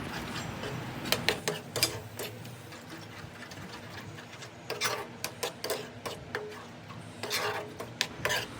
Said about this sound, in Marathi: हे दोन्हीला पण छान मिक्स मिक्स करत राहायचं आणि ह्यालाही थोडंसं तेल सुटू द्यायचं